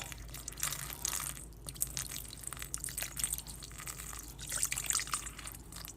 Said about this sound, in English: Now, I'll put water, just a little bit of water.